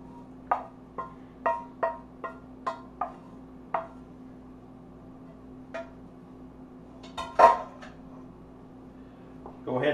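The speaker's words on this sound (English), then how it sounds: "I'm going to stir that up." A spoon stirring meat sauce in a metal pot: a series of light clinks and taps against the pot, quick at first and then sparser, with a louder scrape near the end over a low steady hum.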